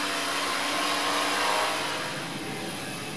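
Tarot Iron Man 650 drone with a Pixhawk PX4 flight controller flies outdoors in a light breeze, its motors giving a continuous broadband whir and hiss, fairly loud and steady, easing slightly toward the end, with no voices.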